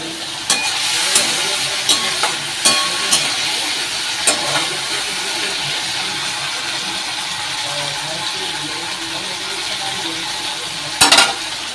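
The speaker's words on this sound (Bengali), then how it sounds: "এই যে পেঁয়াজ দিয়ে আলু দিয়ে চিচিঙ্গে দিয়ে তরকারি করছি" Onion, potato and snake gourd curry sizzles and hisses steadily in a pan, broken by sharp scraping clinks of a spatula as it is stirred every second or two, with a louder burst of stirring near the end.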